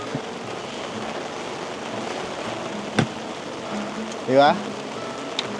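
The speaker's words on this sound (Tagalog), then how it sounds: "Nakaka-relax na tunog ng ulan." Rain pours at a campsite during a typhoon storm, a continuous broad wash with a few louder knocks, while a voice briefly speaks near the end.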